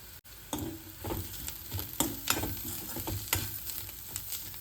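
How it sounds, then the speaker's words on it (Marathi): Fresh green soybean curry masala with black masala paste sizzles in a pan while a spoon scrapes and stirs it in steady, repeated strokes, close and moderately loud. "असं चांगलं हलवून घ्यायचं"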